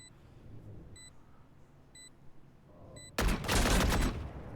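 Turret firing in a Valorant esports match: a sudden loud burst of rapid gunfire erupts near the end, preceded by quieter ambience and repeated short electronic beeps from the planted spike.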